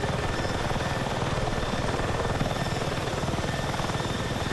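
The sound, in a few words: helicopter flying in Battlefield 6 video game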